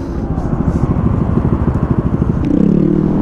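A Honda CRF 250 dirt bike engine chugs and rattles with a stick jammed in its chain, sputtering loudly and unevenly before stalling, with a brief rising whine near the end.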